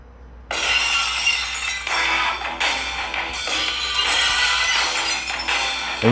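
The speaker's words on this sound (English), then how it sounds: "Here we go, glass shattering." Glass shatters repeatedly in a wrestling entrance theme, a series of bright crashing bursts about a second apart, loud and unaccompanied by talk.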